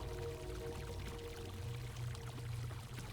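A toilet flushes in a steady rush of water that pours and churns continuously from start to end, heard nearby without any talking.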